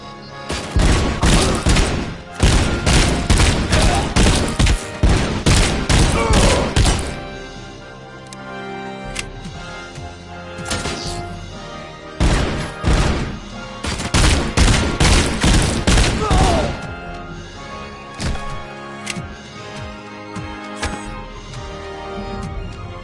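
Bursts of video game gunfire laying down suppressing fire: dense, loud volleys of rapid shots in several clusters, broken by brief lulls with scattered single shots and thuds.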